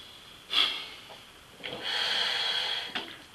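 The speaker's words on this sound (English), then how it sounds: "you'll hear it, you're triggering the ADV, and that rapid inhalation should blow moisture from the cells" Rebreather diver's rapid inhalation triggering the automatic diluent valve: a sharp hissing burst, a pause, then a longer sustained hiss of gas flow with a brief puff near the end, close and fairly quiet.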